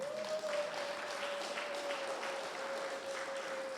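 A church congregation applauding, a steady wash of clapping that sounds moderately distant, with a sustained tone held over it throughout.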